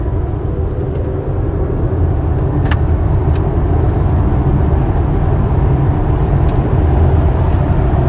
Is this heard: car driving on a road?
yes